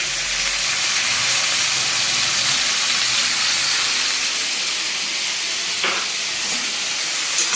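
A loud, steady sizzling hiss fills the whole stretch as washed lentils are added to a hot pan, with a couple of brief clatters near the end.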